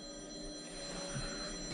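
A telephone rings quietly in a rented flat in Manchester. The bell tone stays steady against a soft room background, and nobody speaks.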